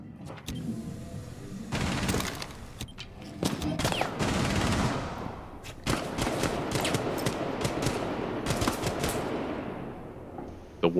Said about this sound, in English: The one guy with a rifle is on that east roof, shooting into the bathroom.